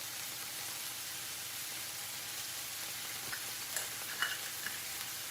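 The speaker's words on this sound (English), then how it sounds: "I want to cook that for just a couple of minutes and let that garlic cook." Garlic, Italian seasoning, red pepper flakes and paprika frying in a pan give a steady, even sizzle throughout, with a few light stirring clicks near the end and no talking.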